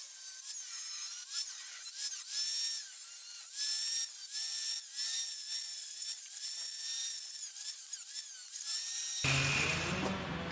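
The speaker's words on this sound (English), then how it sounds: "I'm gonna take my cutoff disc and try to cut out basically as close to a rectangle here" A cutoff disc grinds through rusted metal on a Porsche 914 body, a steady high whining screech with small pitch wobbles running continuously for about nine seconds before stopping abruptly.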